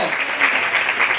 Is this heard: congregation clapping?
yes